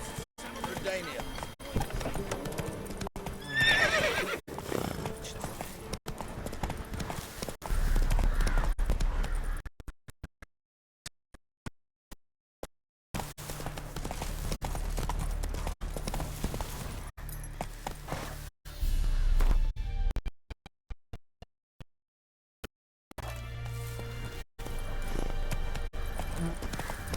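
A horse's hooves clop and pound in a rhythmic gallop in The Witcher 3, fading in and out across stretches with brief silent gaps. Game dialogue and voices are heard over parts of it.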